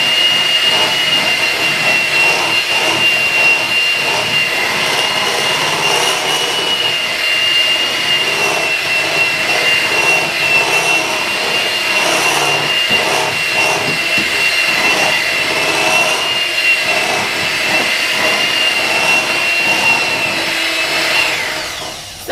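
An electric mixer whirs steadily and loudly through tea cake batter with eggs, almond and vanilla extract, a continuous motor drone with slight fluctuations and no talk.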